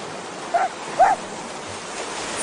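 Two short barks from a dog in a radio-drama scene, well apart and moderately close over a steady wash of background noise.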